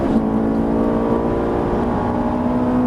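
Inside a Ferrari 458 at full throttle on a race circuit, the engine roars loud and continuous, its pitch climbing steadily over a few seconds with no voices.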